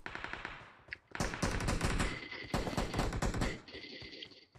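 Rapid automatic gunfire from a PUBG match, loud bursts of machine-gun fire and overlapping shots filling most of the clip, with a short pause near the start and a thinner tail at the end.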